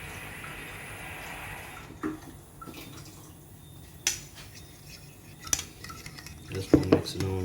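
A spoon stirs goat meat seasoning and water in a bowl, making scattered clinks and scrapes, with sharper metallic knocks near the end over quiet kitchen background.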